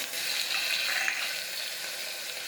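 Chopped onion, tomato and chili hitting hot oil in a pan for a potato curry, giving a steady hissing sizzle that is loudest at first and then eases slightly, with no voices.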